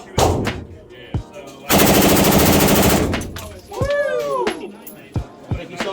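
Gunfire at an outdoor shooting range: a few sharp single shots, then a dense rapid burst lasting over a second, followed by more scattered loud shots close by, with brief voices between.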